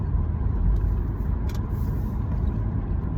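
Steady road rumble from a car being driven, a continuous low engine and tire drone heard from inside with a brief faint click partway through.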